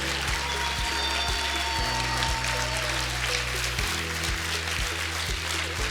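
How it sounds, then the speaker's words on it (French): Audience applause at a master's degree graduation ceremony in human resources management, a continuous wash of clapping across the hall, with steady low musical tones running underneath throughout. "Et on peut les applaudir bien fort."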